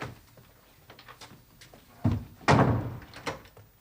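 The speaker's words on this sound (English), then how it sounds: "And shut the door." A door shuts with a solid thunk and slam indoors, preceded by a softer knock or bump, fairly close, with faint room noise and no speech.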